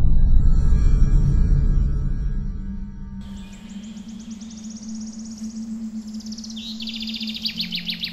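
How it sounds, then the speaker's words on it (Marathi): Morning birdsong for a horror story: bright chirps and trills enter around three seconds in and continue, layered over a low steady hum after an opening rumble. "पक्ष्यांच्या किलबिलाटाने भैरवीला जाग आली."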